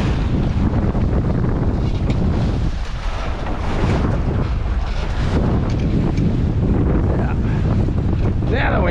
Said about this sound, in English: Wind was picking up a little bit.